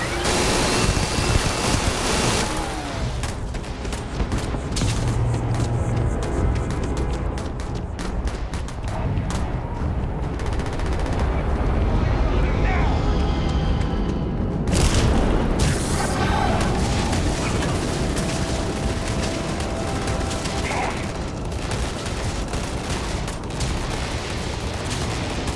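Gunfire and explosions of fire support in the Starfield video game, a continuous loud barrage of booms and rapid shots layered over a dense rumbling roar, with brief lulls.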